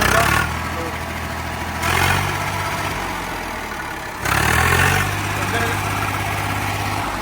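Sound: 850 tractor engine started and idling

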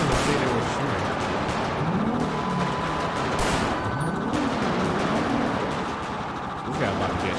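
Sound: gunfire in video game GTA 5

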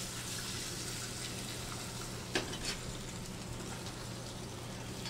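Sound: shrimps frying in a pan

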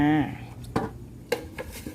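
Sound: tray and cutting board being set down

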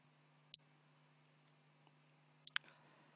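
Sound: computer mouse clicking

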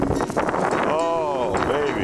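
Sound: wind blowing

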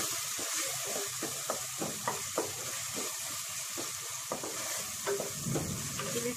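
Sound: onions and tomatoes frying in ghee for mutton curry

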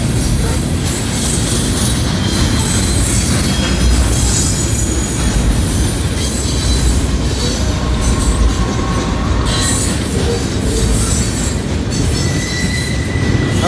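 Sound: heavy coal train passing at railroad diamond

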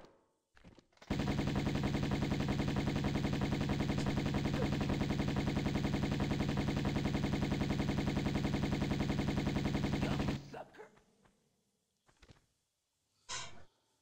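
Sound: shotgun firing in Tomb Raider I Remastered video game

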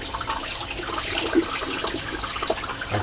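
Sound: water poured into a shaving brush knot

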